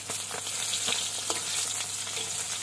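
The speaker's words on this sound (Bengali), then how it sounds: "আমার মাছ ভাজা হয়ে গেল" Fish fries in a pan of hot oil, a dense steady sizzle with scattered crackles and spits throughout, no voices.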